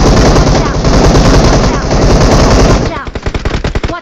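Loud, dense automatic gunfire from the BGMI battle royale game roars in a continuous burst, then breaks into a rapid rhythm of distinct close shots near the end.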